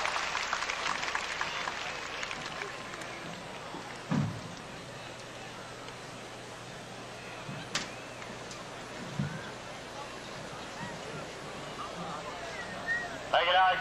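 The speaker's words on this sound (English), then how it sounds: "How about a nice round of applause for our grooms as we depart the ring?" Steady audience applause rises around a horse show ring at the 1999 Celebration as the grooms leave, a broad wash of clapping with a few louder thumps and crowd noise and a voice over the public address.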